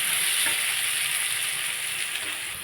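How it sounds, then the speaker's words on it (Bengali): Potatoes and onions fry in oil for a rui fish and spinach curry, making a steady, close hiss of sizzling with light stirring scrapes and no voices. "এইভাবে ভাজতে ভাজতে কষতে কষতে তরকারিটা হয়ে যাবে"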